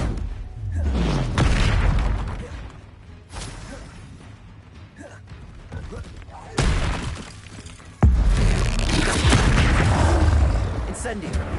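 The Confringo blasting spell in Hogwarts Legacy goes off as loud booming, shattering explosions. Several bursts come at uneven intervals, mixed with whooshes and with a voice speaking over them.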